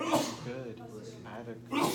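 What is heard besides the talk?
sneeze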